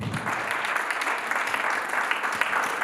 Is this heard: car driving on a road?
no